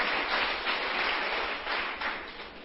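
Steady applause from a church congregation, a dense continuous wash of clapping that holds throughout at even volume.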